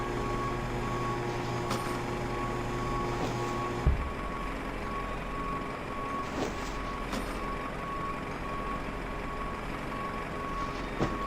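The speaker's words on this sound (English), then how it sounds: "Fuel truck should be detaching and leaving." Reversing beeps from a fuel truck pulling away from a PMDG 737 airliner in Microsoft Flight Simulator 2020, a steady repeating electronic tone over a constant engine and airport hum, fairly loud throughout.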